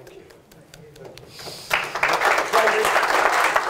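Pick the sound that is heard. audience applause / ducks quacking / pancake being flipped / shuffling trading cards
audience applause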